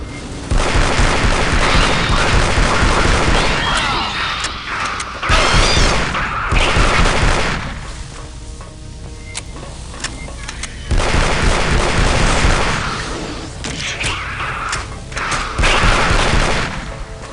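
Heavy, powerful weapon fire from Aliens vs Predator 2, including pistol and pulse rifle shots, with loud booming bursts and thuds in repeated clusters across the span, dense and close with brief quieter gaps between volleys.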